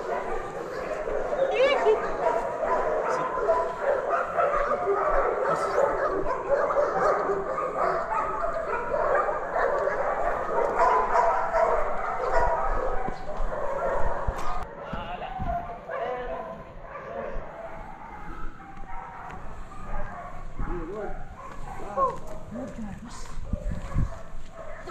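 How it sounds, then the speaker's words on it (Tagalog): A dog handled by police barks, yips and whimpers in short, repeated bursts at close range, heard under ongoing conversation between men. "Galing yung aso mo yan."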